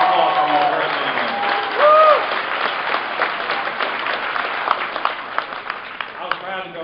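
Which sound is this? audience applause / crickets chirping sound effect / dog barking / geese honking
audience applause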